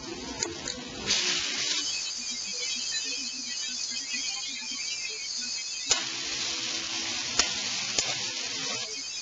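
Korean marinated chicken breast with garlic and ginger stir-fries in chilli oil, giving a steady, close hiss of sizzling broken by a few sharp clicks and scrapes of stirring.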